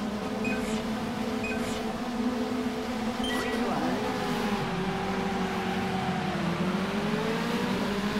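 A Formula 3 race car at Suzuka in the racing sim Automobilista pulling away, its engine droning steadily and rising in pitch as it gets underway, loud and continuous with smaller tonal shifts over the idle.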